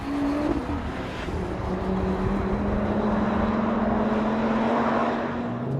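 A 2022 Audi RS3 engine drones steadily at close range as the car drives, with a sustained tone that rises slowly in pitch through the clip and no voices.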